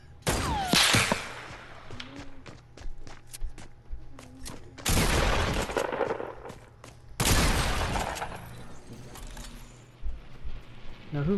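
Gunfire in the Fortnite video game, rapid bursts of shots and impact crashes in clusters separated by short pauses, with someone talking in between.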